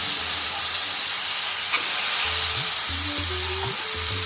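Tomatoes drop into a pan of frying onions and ginger garlic paste, giving a loud, steady sizzle and hiss with the occasional stirring scrape.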